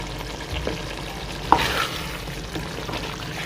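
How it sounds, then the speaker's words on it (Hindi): Chicken gravy with fenugreek cooks over a low flame, a steady soft frying bubble with a brief sharp clink of a spoon against the pan midway, near and fairly loud, no voices. "फ्लेम इसका बिल्कुल स्लो करके इसको तकरीबन 2 मिनट के लिए पकाएंगे ताकि ये बिल्कुल तेल छोड़ दे"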